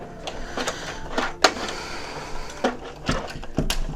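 A home sewing machine starts a stitch while a dress is sewn on a screened-in porch, giving a run of close mechanical clicks and brief whirring bursts with a few sharper knocks, no one talking.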